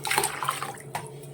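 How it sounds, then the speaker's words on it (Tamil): Water is poured into a cooking pot for pepper rasam, a short close splashing gush that rises and tapers off over about a second. "5 டம்ளர் தண்ணி ஊற்றிட்டோம்."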